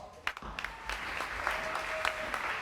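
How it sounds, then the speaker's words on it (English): An audience applauds at a student motivational speech event, a steady mid-level wash of clapping with a few sharper individual claps standing out, lasting a couple of seconds. "So I want to give you all a big round of applause"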